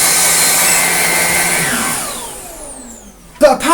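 A Numatic vacuum cleaner with a turbo head running loud and close, its whine holding steady, then winding down in pitch as the motor spins down, ending in a short knock.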